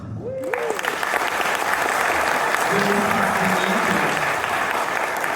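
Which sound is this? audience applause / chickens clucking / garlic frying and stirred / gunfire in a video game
audience applause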